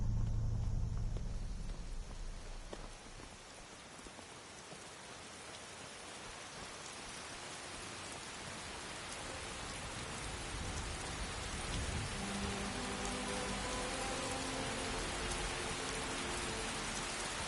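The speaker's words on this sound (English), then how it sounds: "it's raining hard" Steady heavy rain in the video game Skyrim pours down with a dense hiss, with low rumbling thunder rolling underneath and no voices.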